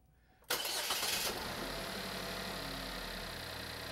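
A car engine cranked by the starter with the negative battery cable disconnected for a current draw test, a brief loud crank catching into a steady, moderately loud idle.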